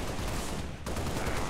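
Gunfire in the video game Halo Reach comes as a dense, continuous burst of rapid shots that fills the short clip at a steady, fairly loud level with no talk.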